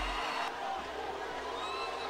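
A boxing arena crowd murmurs and stirs at a low, steady level, with a commentator talking over it.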